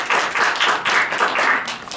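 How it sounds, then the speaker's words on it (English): Audience clapping at a peace and justice summit panel on the refugee experience, a few seconds of close, bursty applause that swells and dips slightly. "If we can have a round of applause."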